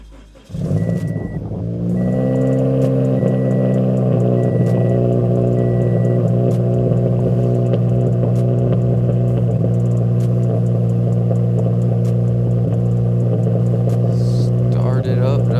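A turbocharged, E85-fuelled Toyota FRS fires up from a cold start in freezing, icy weather, catching sharply and then settling into a loud, steady, rumbling idle that continues unbroken nearby.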